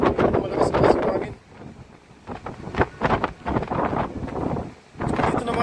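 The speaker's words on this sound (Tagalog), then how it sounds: "malakas na kasi hangin." Strong wind buffets a ship at sea, roaring in loud broadband gusts that swell and ease across the moment, with no talk over it.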